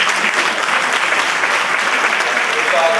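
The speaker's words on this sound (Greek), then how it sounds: "Χειροκρότημα." Steady, dense applause fills a hall at a music association's tribute concert in Kilkis, loud and continuous throughout with no break.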